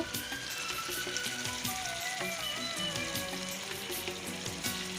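Fish pieces and a paste of mustard, cumin, coriander, ginger and garlic fry in a pan with a continuous dense crackling sizzle, close and even, over faint background tones; no speech.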